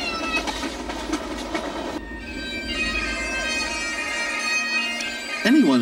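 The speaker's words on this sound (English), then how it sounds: "I was pulling into the railway's most famous stop" Passenger train crossing Canada, approaching Banff station, rumbling along the rails with rhythmic clatter and a sustained tonal whine, continuous and loud, with a brief voice-like sound at the end.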